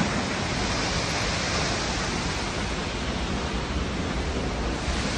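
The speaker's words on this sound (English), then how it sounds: "Here we are at the base of the waterfall that we got pictures of through the binoculars." Powerful roar of a waterfall at Yosemite, heard from near its base: a dense, steady broadband rush that stays loud and unbroken throughout, with no voices.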